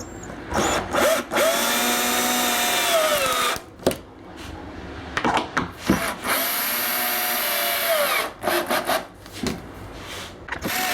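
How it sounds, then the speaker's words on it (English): A power drill drives screws into wood while fastening down a garage tool-room renovation, its motor whining in several bursts of a second or two each with short pauses between, loud and close throughout. "let's run these screws in"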